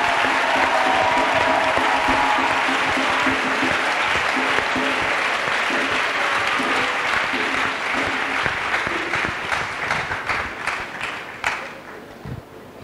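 A crowd at a national Bible camp in Côte d'Ivoire applauds loudly and steadily, dense clapping that holds strong and then gradually thins and fades toward the end.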